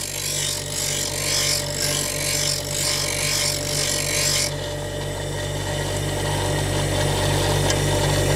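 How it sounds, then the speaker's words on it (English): A plane blade is being reground on a powered grinder to re-establish its primary bevel, giving a steady abrasive hiss over a constant motor hum that drops in brightness partway through, with no talking. "regrind that without going all the way to the edge"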